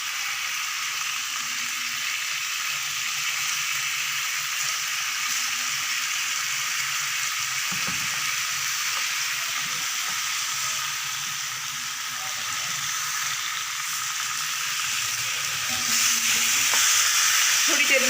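Chicken with yogurt cooks on a low flame in a pan, a steady, even sizzle and bubbling fry that continues throughout, growing slightly louder near the end.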